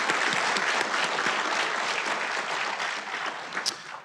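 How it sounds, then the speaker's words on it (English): A crowd at a county Memorial Day ceremony applauds the honor guard with loud, dense continuous clapping that holds steady for the whole stretch before thinning slightly near the end. "We have another round of applause for our honor guard and Corporal Dustin Martin Young"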